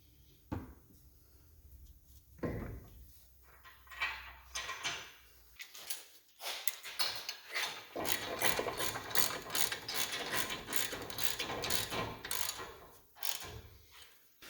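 A ratchet works on the brake caliper bracket bolts of a 2006 Duramax pickup during a brake install, first a few isolated clunks, then a long run of fast, close metallic clicks from continuous cranking, with no talking.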